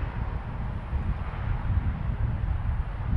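Wind buffeting a microphone outdoors while an E-Flite Vans RV-7 RC plane is flown, a continuous low rumbling roar that swells and eases slightly, loud and close, with no talking.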